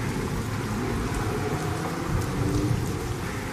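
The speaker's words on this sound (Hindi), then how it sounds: "तभी अचानक जोर जोर से बारिश होने लगती है।" Heavy rain pours steadily in a dense, hissing wash with a low rumbling undertone, continuous and loud throughout.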